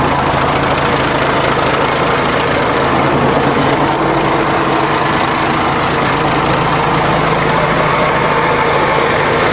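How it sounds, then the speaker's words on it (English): A heavy diesel engine on a Fiat-Allis 21B bulldozer, warmed up to 190 degrees, idles loudly and steadily up close, a constant low rumble with rattling knock and no talking. "the dozer engine is warmed up now, 190 degrees, and it's staying there"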